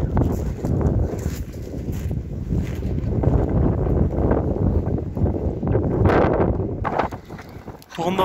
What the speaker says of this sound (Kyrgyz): Азыр анткени жамгыр өтө жаа баштады, шамал катуу жүрүп жатат.